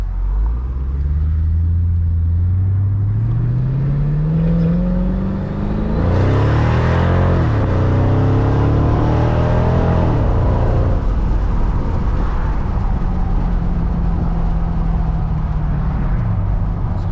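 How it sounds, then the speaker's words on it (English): A supercharged 2005 Mercedes-Benz CL55 AMG engine roars close by, revving up through rising gears with a strong rumble and whine, loud and continuous throughout. "That supercharger clutch activates and you're just off, man."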